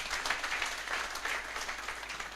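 Congregation applause at a pastors' fellowship church gathering, a fairly faint but steady patter of many hands clapping throughout.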